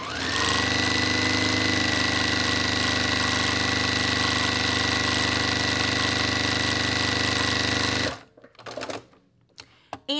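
A domestic sewing machine stitches fabric at high speed in one continuous, loud, rapid mechanical whir for about eight seconds. It then stops abruptly, leaving a few soft handling clicks and rustles.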